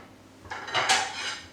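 Plates and dishes clatter close by in a short burst of ceramic knocks and scrapes as a small plate is taken out in a home kitchen.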